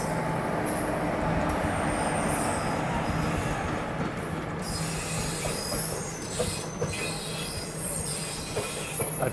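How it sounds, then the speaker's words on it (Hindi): The Rani Kamlapati–Agartala Special, a slow-running Indian passenger train, rolls past a halted train: a loud, continuous rumble of wheels on rails with high metallic squeals and steady clickety-clack, close by, with no voices. "सामने से जो मेरे ख्याल से ये रानी कमलापति अगरतला स्पेशल जो है वो है"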